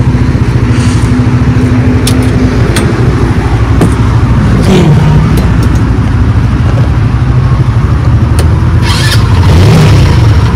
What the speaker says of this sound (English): Let's go and turn on the Buck real quick.